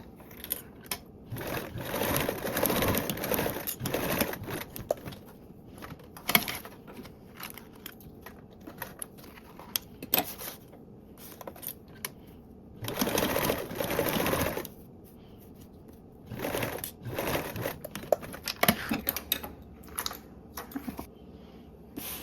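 A sewing machine basting fabric with a 1/8 seam allowance, running in several short bursts of rapid stitching separated by pauses and small handling noises.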